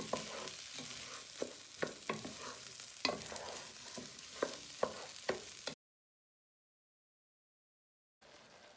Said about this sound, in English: And you want to give it a good stir.